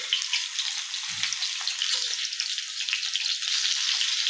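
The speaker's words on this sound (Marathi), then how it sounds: "आणि हे कारले मी किमान अर्धे फ्राय होईपर्यंत मोठ्याच गॅसवर फ्राय करणार आहे" Stuffed bitter gourds (karela) frying on a wide flat tawa over a high flame, giving a dense, bright, continuous sizzle close up with no voices.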